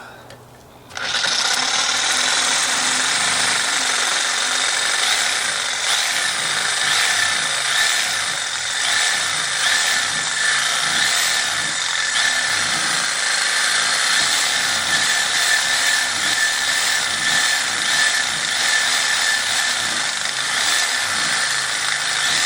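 Power tool cutting a bearing race off a Nissan 350z differential, a loud steady high-pitched grinding whine that runs continuously and close for about twenty seconds after a brief start, with no pauses.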